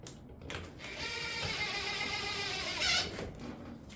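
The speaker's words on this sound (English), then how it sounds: "we're going to stitch screw it to the panels using our 3/4 inch stitch screw" A power driver whirs as it sets 3/4 inch stitch screws into metal roof panels along a valley line, one sustained motor run rising to a brief louder burst near the end.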